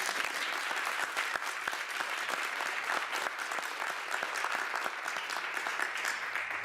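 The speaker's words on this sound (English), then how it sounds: "Applause for Matteo." Audience applause at the close of a youth entrepreneurship event, a steady dense wash of many hands clapping throughout, fairly loud and continuous with no talk over it.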